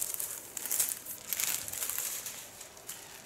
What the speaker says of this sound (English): And now comes my first plastic foil.